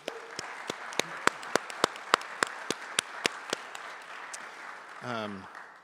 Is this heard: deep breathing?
no